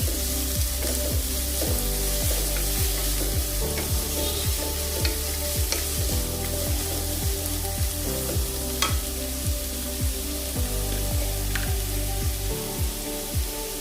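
Onions fry in a pan for berakaya curry with a dense, continuous sizzle that stays loud and even throughout, over regular low thumps in the background.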